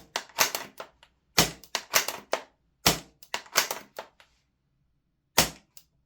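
An ICS Tomahawk airsoft rifle fitted with a Mancraft SDiK HPA kit fires short rapid bursts of sharp, snappy shots, close and fairly loud, separated by brief pauses, with no talking.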